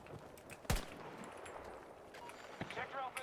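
A single sniper rifle shot cracks out in a video game, one sharp close report amid ongoing game noise and footsteps, while a player talks throughout.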